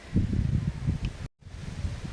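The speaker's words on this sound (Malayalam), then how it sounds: "നല്ല കാറ്റുമുണ്ട്" Wind gusts buffet the microphone in a low, steady rumble, briefly dropping out before resuming.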